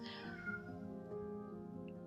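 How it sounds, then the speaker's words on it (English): A house cat meows clearly in a short, sustained, tonal call close to the mic, with a steady room background and no talking. "That's my cat."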